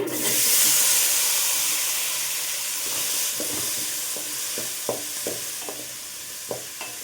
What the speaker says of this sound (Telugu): ఇప్పుడు ఈ ముక్కల్ని వేయించుకుందామండి